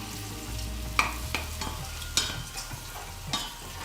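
Onions frying in a pan with a wooden-sounding stir every second or so, sharp scraping clacks over a steady low sizzle, close and alone with no talk.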